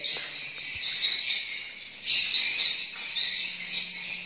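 A bird call used to check a location, played from a speaker, gives a steady, dense high chirring that resembles insect buzzing, continuous and fairly loud with a brief dip partway through.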